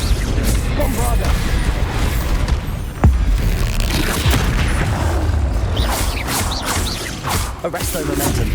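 Bombarda blasting spell in Hogwarts Legacy: a loud, booming explosion burst over dense combat noise and crashes, with a sharp impact about a third of the way in and continuous rumbling blasts throughout.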